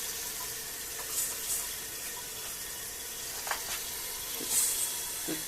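A newly installed toilet in a small cabin refills after a flush, a steady hissing rush of water with faint gurgles and drips, close by and without talk.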